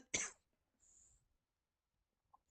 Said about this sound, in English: must apologise, I'm coughing away tonight